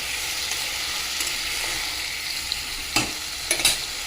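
Vegetables and prawns fry and get stirred in a pan, with a steady hiss and sizzle and a few scraping strokes of the spatula near the end. No voices.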